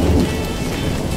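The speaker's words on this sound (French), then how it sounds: "Rien qu'avec le tonnerre, elle est morte de peur." Thunder rumbles through a cartoon scene, a loud, low, rolling roar mixed with a hiss like rain that lasts the whole moment.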